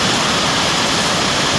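Heavy rain keeps pouring, and water rushes in around the house during a downpour that has gone on for more than an hour. The roar is loud, dense and unbroken, with no talk over it.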